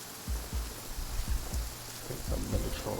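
Rain falls steadily in a video game set on a deserted island, a constant soft hiss broken by low thumps and rumbles like distant thunder, with no voices.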